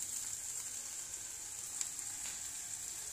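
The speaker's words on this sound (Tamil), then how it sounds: "மீதே இருந்த கட் பண்ணி வச்சுருந்த 4 முட்டையும் அதையும் ஃப்ரை பண்ணி எடுத்தாச்சுமா" Cut eggs fry in a pan with a faint, even high sizzle throughout, broken by one or two small ticks.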